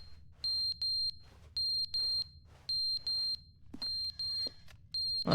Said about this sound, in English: What's the beeping sound though?